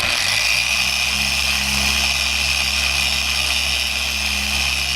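A buffer running at low speed with a soft pad polishes clear-coated carbon fiber parts for a Bimota, a loud, steady whirring hum with a constant hiss that continues unbroken throughout.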